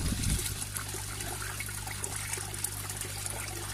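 Pond overflow water trickling and draining steadily down a pipe in a garden, a continuous close gurgling dribble with a low hum underneath.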